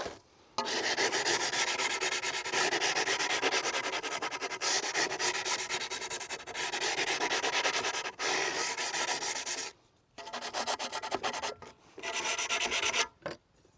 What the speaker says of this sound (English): Let's just sand this up a little bit.